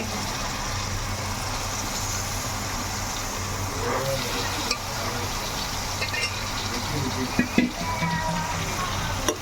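Country chicken curry frying in a pan, a steady broadband sizzle running throughout with a few brief clinks and knocks from a utensil near the end.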